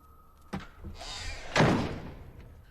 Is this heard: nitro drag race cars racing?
no